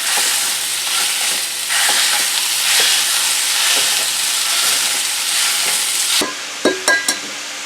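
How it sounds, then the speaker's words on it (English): A pound of Jimmy Dean sausage frying in a pan gives a loud, steady, close sizzle and hiss. Near the end the sizzle drops away and a few sharp knocks and scrapes follow. "I am cooking up a pound of Jimmy Dean sausage for this."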